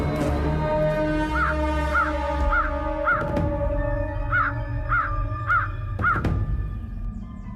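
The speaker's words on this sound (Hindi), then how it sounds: "ये कौवा चिल्ला क्यों रहा है?" Crow cawing loudly and close, eight harsh caws in two quick groups of four, over a steady hum of background music.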